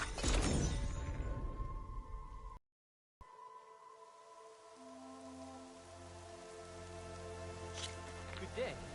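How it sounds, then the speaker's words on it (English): Rain falling in the video game Horizon Forbidden West, a steady hiss of drops on surfaces that starts loud, cuts out briefly, then continues more softly under low tonal game music and ambience. "It's starting to rain."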